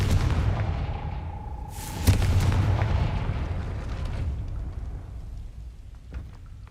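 A Confringo blasting spell in Hogwarts Legacy explodes with a sharp crack and rumbling boom over layered game ambience and a steady rushing noise that slowly fades, with no talking.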